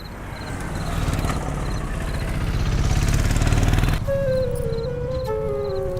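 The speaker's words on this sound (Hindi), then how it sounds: "ए धर्मा, अरे बाइक ले जा यार" A motorcycle engine runs loud and close with a steady rumble, then the sound shifts as the bike moves off, leaving a fainter engine tone trailing away.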